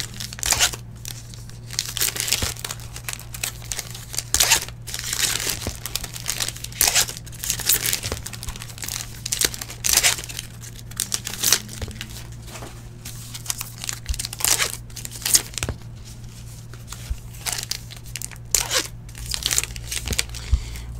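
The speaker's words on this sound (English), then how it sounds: "Opening packs" Foil wrappers of 2019 Topps Heritage baseball card packs crinkle and tear open in a steady run of close, crisp rustles and rips, with a low constant hum underneath and no talking.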